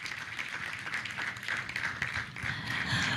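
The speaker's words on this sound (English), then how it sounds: "Another hand clap for Justina." An audience at a youth energy conference claps steadily for a speaker, a dense, continuous patter of many hands with no voices over it.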